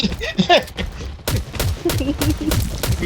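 Gunfire in the survival shooter Garena Undawn: bursts of sharp gunshots and rapid volleys crack out close and loud, mixed with someone talking over the shooting.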